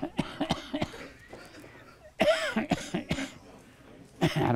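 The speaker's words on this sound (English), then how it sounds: "it's just coughing" A man coughs repeatedly indoors, several sharp, loud bursts in clusters with short pauses between, the coughs harsh and close to the microphone.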